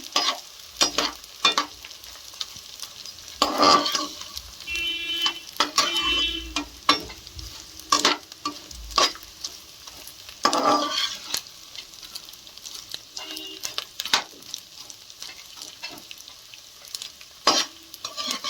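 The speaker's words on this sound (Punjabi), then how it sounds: "ਗੂੰਦ ਆਪਣੀ ਫਰਾਈ ਹੋ ਗਈ ਹੈ" Edible gum (gond) fries in hot ghee with a bubbling sizzle, while a spoon scrapes and stirs the pan in repeated, uneven strokes, some loud and close; no voices.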